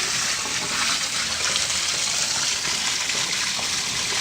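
Water gushes steadily from a blocked, overflowing bath drain outside, a continuous loud hissing rush with no pauses or talk.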